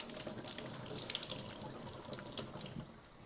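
Tap water running over freshly harvested garden cucumbers being washed for pickles, a steady splashing flow into a sink with brief drips and hand movement, close and fairly quiet.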